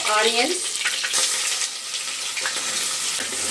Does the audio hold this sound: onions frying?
yes